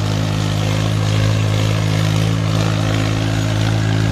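An Abhiman mini tractor engine runs loud and close in a field with a rotavator, a steady throbbing low drone with even mechanical clatter throughout and no talk.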